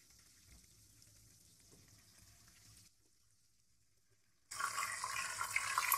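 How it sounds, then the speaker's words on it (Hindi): Cinnamon sticks, cloves and cumin roast in hot ghee for a white chicken korma, giving a soft sizzle that drops out briefly before a much louder, bright frying hiss bursts in near the end. "3 से 4 स्टिक दालचीनी, 6 से 7 लौंग, हाफ टी स्पून जीरा, इनको हम रोस्ट करेंगे।"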